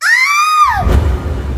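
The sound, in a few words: woman screaming loudly, story sound effect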